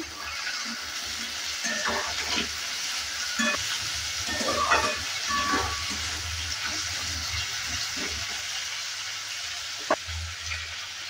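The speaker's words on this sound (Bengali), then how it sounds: "আলুটা দেওয়ার পরও ভালো করে একটু নেড়ে চেড়ে নিচ্ছি" Long-cut potato strips and potato leaves fry in a pan with a steady background sizzle, broken by scattered scrapes and knocks as the mixture is stirred and turned.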